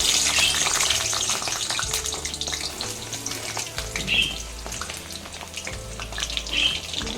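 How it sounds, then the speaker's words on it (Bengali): Eggplant sizzles in hot mustard oil, a close crackling hiss with scattered pops and spits that swell and fade throughout. "প্রথমে বেগুনগুলো আমি ভালো মতো ভেজে নিচ্ছি"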